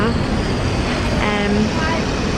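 Steady broadband roar of an airliner cabin in flight on a long-haul journey to Australia, a constant engine drone filling the whole clip with faint voices murmuring underneath.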